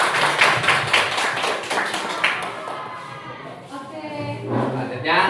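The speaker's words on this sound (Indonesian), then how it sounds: "Tepuk tangan untuk kelompok 1." Classroom clapping for a student group in an Indonesian school session, rapid claps fading after a couple of seconds as a voice starts talking over the room.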